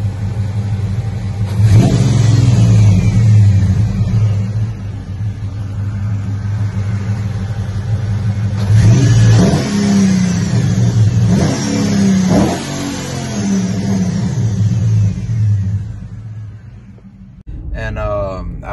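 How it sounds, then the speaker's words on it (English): A Ram Daytona pickup truck engine runs and revs in waves, with a thin whining tone riding above the low rumble, ending with a brief clunk. "my truck's making like a little airplane soundy noise"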